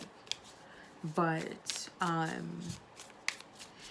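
Tarot cards are shuffled and one is pulled, giving quick soft riffling and flicking sounds close by, while a person speaks over them.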